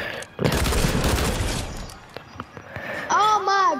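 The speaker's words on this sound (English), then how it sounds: "I'm really good with pistols." Pistol shots ring out in a game setting, several sharp bangs heard loudly alongside excited voices and background chatter, followed by a ringing tonal effect.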